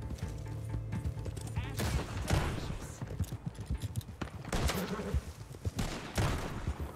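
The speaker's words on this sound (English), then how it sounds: "So my horse is getting shot, but he is not kicking me off yet." Gunfire in the Red Dead Online video game strikes a horse. Shots crackle in dense, irregular bursts across the whole stretch, loud and close amid clattering game action, with no speech.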